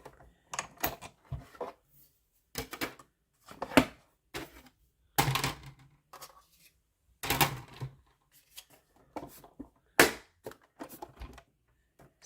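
A manual die-cutting machine cranked to roll a detailed stamping die through, giving close, irregular bursts of sharp clicking and ratcheting separated by short pauses.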